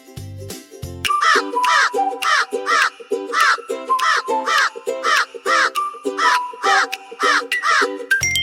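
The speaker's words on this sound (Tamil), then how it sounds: "காகம் எப்படி கரையும்? கா கா என கரையும்." A crow caws repeatedly in a steady run of loud, harsh calls, about a dozen close together, with no talk over them.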